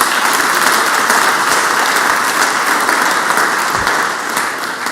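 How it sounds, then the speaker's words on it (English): Lawmakers and guests on the Mississippi Senate floor break into a big round of applause, loud sustained clapping from many hands filling the chamber and easing slightly near the end. "So let's give them a big round of applause"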